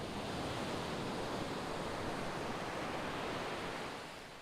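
Ocean waves rolling in a continuous surf wash with a windy, broadband roar that stays loud and steady before easing off near the end, serving as a nature sound bed for music.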